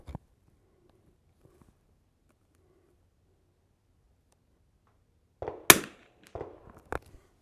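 A Winchester 52C .22 rifle firing Eley and Lapua ammunition on a 100-yard range, with a faint crack at the start and then several sharp shots close together near the end, separated by quiet.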